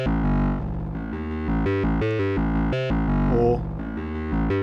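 A Volca Modular synthesizer plays a distorted, choppy sequence of stepped notes with a washy reverb tail, loud and continuous, no voices.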